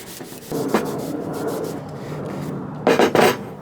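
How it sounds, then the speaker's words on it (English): Rag rubbing wood stain into an old chair, a coarse, scratchy friction in long strokes close by, with a louder burst of quick rubbing near the end and no voices. "And then I use a rag to either wipe off or rub in the stain."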